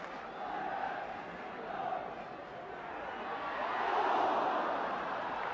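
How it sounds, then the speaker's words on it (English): Football crowd at a 1978/79 Division One match between Wolves and Manchester United, a distant, muffled roar of encouragement that swells and fades across the stand, rising louder toward the end. "The crowd giving Wolves the encouragement they need"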